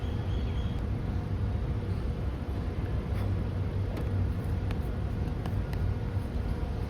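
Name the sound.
car engine left running idling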